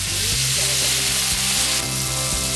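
Pork belly sizzles and crackles steadily on an upturned cast-iron cauldron lid at a foundry after work, a dense, loud frying hiss with occasional scraping stir sounds and no talking.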